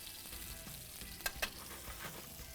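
Plantain searing in a hot frying pan at an outdoor food event, with a steady soft sizzle and two sharp clatters midway as pieces are turned, faint and fairly distant.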